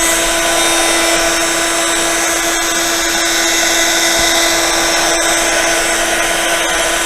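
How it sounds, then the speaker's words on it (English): A craft heat tool blows continuously while drying paint, giving a loud, steady whirring hiss with a constant motor hum and no break from start to finish. "quick going over with the heat tool"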